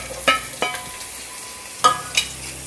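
Finely chopped capsicum is tipped into a pan of hot and sour soup, with a few sharp clinks and scrapes of a utensil over a low cooking hiss, close and without talk.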